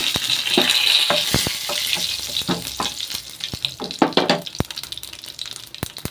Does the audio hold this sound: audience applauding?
no